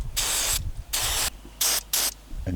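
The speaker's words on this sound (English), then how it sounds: "And you simply give it a spray like that." Four loud bursts of aerosol MAF sensor cleaner sprayed on a Land Cruiser 200 Series, hissing close by in short blasts separated by brief silences, the last two nearly back to back.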